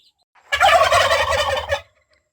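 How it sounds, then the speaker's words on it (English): Turkeys on a homestead, a hen with two gobblers, let out a single loud, close gobbling burst of rapid rattling calls lasting about a second, with no talking over it. "We have this hen and 2 gobblers here."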